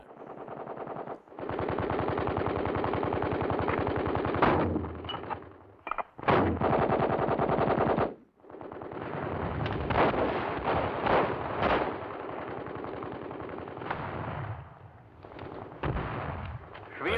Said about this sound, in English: Countless weapons fire on the breakthrough point.